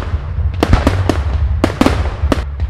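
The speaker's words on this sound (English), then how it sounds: "Fizzing fireworks?" Fizzing fireworks crackle and pop in a quick, irregular series of sharp bursts over a low steady hiss, loud and close, with no voices.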